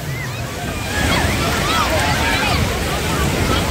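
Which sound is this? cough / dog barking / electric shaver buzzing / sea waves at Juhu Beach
sea waves at Juhu Beach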